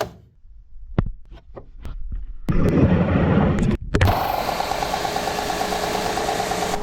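After a few scattered knocks, a workshop dust collector for a miter saw starts up as a loud, steady rushing roar with a whining hum underneath, continuing to the end.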